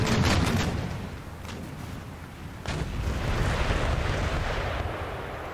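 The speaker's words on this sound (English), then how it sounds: "So we are being engaged by their artillery." Enemy artillery shelling in Empire Total War during a siege, with heavy booming reports and rumbling battle noise, a strong burst at the start and another sharp blast midway, dense and continuous throughout.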